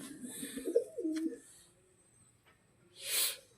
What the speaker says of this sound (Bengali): এই 4টে পায়রা ছাড়া হবে।